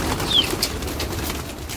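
Pigeons let out of their loft on a Sunday morning give soft, indistinct coos and one brief high chirp, low in a steady outdoor background hiss.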